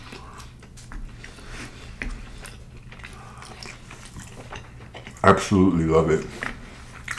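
Crunchy shrimp toast from New York-style Chinese takeout being bitten and chewed close to the mic, soft crunching early on, followed by a person speaking.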